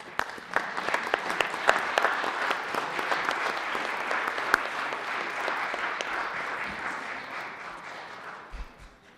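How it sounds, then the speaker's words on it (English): Applause in the Colorado Senate chamber during a legislative session, sustained clapping from many people with some sharper individual claps, moderately loud and continuous before tapering at the end. "if you could please give a round of applause"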